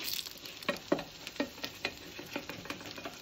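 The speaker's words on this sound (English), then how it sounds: "And now, I slide the whole thing back in the pan," An egg and nettle tortilla being slid back into a hot pan, where it fries quietly with soft sizzling and a few faint, irregular taps and scrapes, heard alone at low volume.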